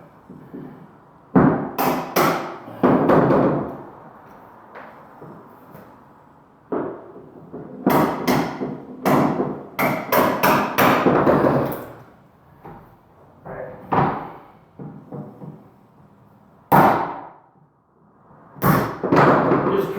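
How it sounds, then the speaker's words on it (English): A hammer pounding hardwood floorboards into place over a subfloor: loud, close, irregular thuds and knocks, some in quick bursts, separated by brief quiet gaps. "I'm just pounding a clearance here anyway."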